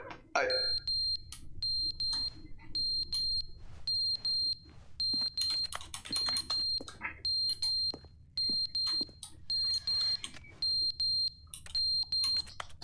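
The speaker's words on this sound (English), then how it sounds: "fire alarm running out of power" A fire alarm with a dying battery in The Stanley Parable Ultra Deluxe chirps in short, high, regular beeps roughly once a second, repeating steadily over a low background rumble.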